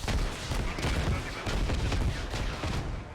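Mortar shells exploding in the military game Squad: a dense, continuous barrage of heavy booms and rumbling blasts overlapping one another, loud and sustained throughout with repeated thumping impacts.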